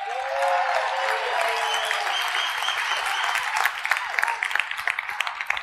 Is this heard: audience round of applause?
yes